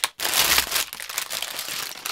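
A plastic bag of Lego parts from set 80109 is torn open and handled, giving a loud burst of crinkling followed by softer rustling that comes close and continuously.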